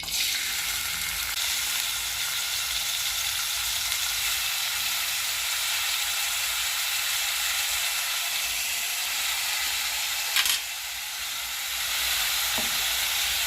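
Onions fry in a pan with a steady, close sizzle and hiss, a continuous broadband crackle that holds for the whole stretch with a brief clatter near the end.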